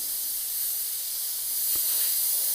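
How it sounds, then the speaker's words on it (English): Airbrush spraying paint onto a Pathfinder skeleton knight miniature, a steady bright hiss held close and constant for the whole stretch, with no talking. "it's going to give me a chance to get spraying and see how the paint is working"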